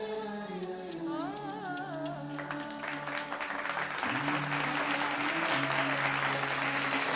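Audience applause at a Covid Warrior award ceremony, a steady, dense clapping from a crowd that swells slightly louder partway through, with sustained tones and a faint voice underneath.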